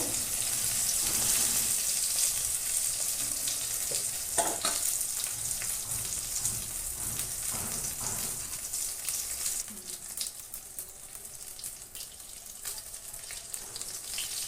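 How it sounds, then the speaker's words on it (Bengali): Ash gourd leaves fry in hot oil with a steady, dense sizzle that runs the whole time, broken by a few scraping stirs and turns in the pan. No one speaks. "দেখো কি সুন্দর করে ভাজা হচ্ছে একদম একটাও খুলে যায়নি"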